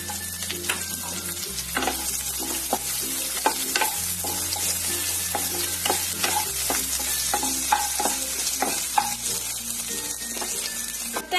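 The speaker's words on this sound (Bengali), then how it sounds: "এখন আমি এখানে পেঁয়াজ কুচিগুলো ছেড়ে দিলাম।" Chopped onions frying in hot oil with black cumin for a fish curry, a steady bright sizzle broken by regular scraping stirs of a spatula, close and continuous with no talk.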